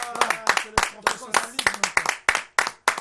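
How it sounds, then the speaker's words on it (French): Brisk applause with sharp, overlapping claps from a small crowd, steady and lively throughout. "On applaudit quand même pour la RTGA."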